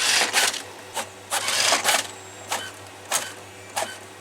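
An inkjet or laser printer runs off biology worksheets at home, with repeated mechanical feed passes and whirring bursts about every half second to second, close and moderately loud, with no talking.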